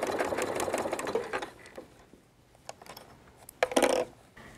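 A sewing machine doing applique stitching on quilt binding, with a dense run of rapid stitching at the start, a pause of scattered light clicks, then a second short burst of stitching close by.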